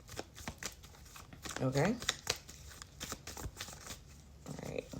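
Tarot cards riffled and shuffled by hand, a run of quick papery flutters and soft slaps at close range, with a brief spoken word partway through.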